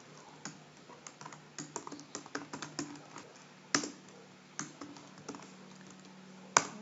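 Someone types HTML code on a computer keyboard, producing quiet, irregular key clicks in quick bursts with a few louder strikes and no talk.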